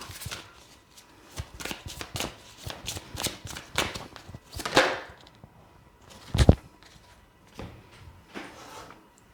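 Tarot cards are shuffled by hand in a quiet room, with soft, close riffling and sliding bursts coming in quick irregular runs and a sharper snap or tap near the end.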